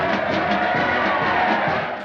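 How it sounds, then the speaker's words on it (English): A large crowd cheering in an old film, a dense continuous roar of many voices, loud and sustained before fading slightly at the end. "with large, cheering crowds"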